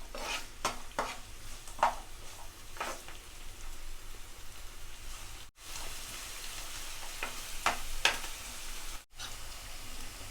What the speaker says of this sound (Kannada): ಇದನ್ನು ಎಣ್ಣೆಯಲ್ಲಿ ಚೆನ್ನಾಗಿ ಫ್ರೈ ಮಾಡಿಕೊಳ್ಬೇಕು.